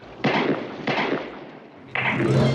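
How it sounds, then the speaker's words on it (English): Three sharp gunshots sound over a telephone line, spaced about a second apart, each a loud broadband crack with a short decay and no talk over them. "It sounded an awful lot like gunshots."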